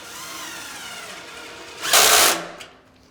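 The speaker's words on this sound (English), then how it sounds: "Drill the bottom one in" A power drill whirs steadily, then surges into a louder burst as it drives a screw into the hinge side of a security door during installation, stopping abruptly.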